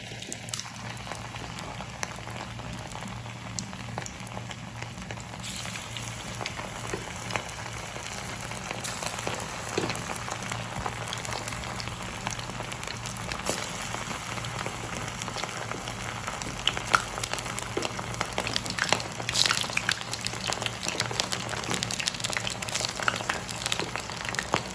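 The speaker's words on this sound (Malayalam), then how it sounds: "നമുക്കിനി ഓരോ പീസുകളായിട്ട് ഒന്നിട്ട് ഫ്രൈ ചെയ്തെടുക്കാം" Pieces of chicken kabab frying in hot oil, a steady close crackle and sizzle like rain on a surface, continuous and even from start to finish with no talking.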